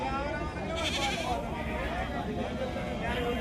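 Goats bleat at the Chillakallu livestock market in NTR district, Andhra Pradesh, where pregnant goats stand unsold; bleats rise over a dense crowd murmur with people talking nearby throughout.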